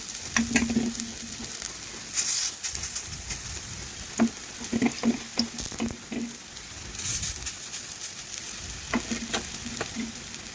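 Onion fritter batter dropped into hot oil sizzles and bubbles steadily at close range, with scattered clinks and stirring sounds and no talking.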